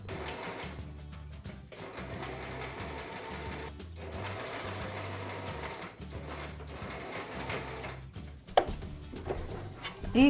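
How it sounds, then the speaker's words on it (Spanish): A sewing machine stitches the top edge of an apron in a continuous mechanical whir with a pulsing low rhythm, pausing briefly a few times, close up and without speech. "vamos a coser el borde de aquí arriba para cerrar la abertura que habíamos dejado para darle la vuelta"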